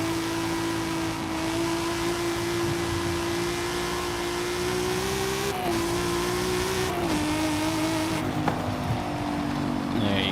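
Car engine in the Forza Horizon 5 video game, driving on a highway: a steady droning engine note at fairly constant revs with a couple of small shifts in pitch, close and continuous.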